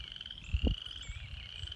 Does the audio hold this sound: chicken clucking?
no